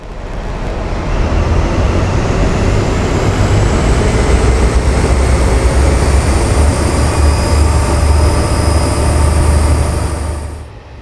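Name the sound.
Class 43 HST train engine sounds, Valenta engine, from Train Simulator video game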